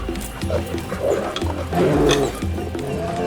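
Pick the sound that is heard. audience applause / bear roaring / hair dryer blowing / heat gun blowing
bear roaring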